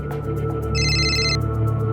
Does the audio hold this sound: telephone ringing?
yes